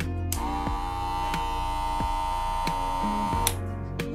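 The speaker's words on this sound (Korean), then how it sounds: "자, 이쪽 짝퉁입니다." A counterfeit Chinese-made hair clipper hums at a steady mid pitch for about three seconds, with clicks as it is switched on and off.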